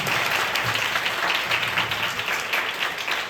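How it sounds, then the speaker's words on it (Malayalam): A church congregation breaks into applause for a pastor, a dense, steady roomful of clapping that carries on evenly for a few seconds with no voices over it. "നല്ലൊരു കൈയടി കൊടുക്കാം."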